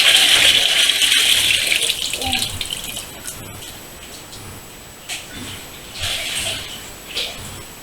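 Water rushes and splashes as a koi is moved into another tank, a steady loud gush at first that eases into intermittent splashes and drips.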